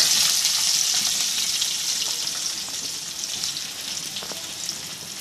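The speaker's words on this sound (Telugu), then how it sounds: "అదే ఆయిల్లో ఉల్లిపాయలు, టమాటాలు వేయాలండి." Onions and tomatoes sizzling in hot oil for a pachadi, a steady loud hissing fry with crackling spatters close up and no voices.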